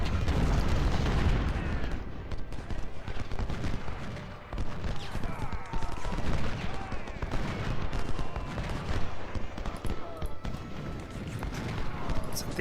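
Cannon and musket fire rolls through an American Civil War battle in Ultimate General: Civil War, a dense, continuous crackle of volleys and booms with scattered sharper shots, and speech is audible over the din.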